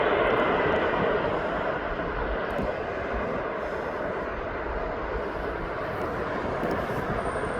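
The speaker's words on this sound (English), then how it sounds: "what a beautiful plane that is." A TUI passenger jet arriving from Madrid at East Midlands Airport roars steadily and loudly throughout, a broad continuous engine rumble with no speech over it.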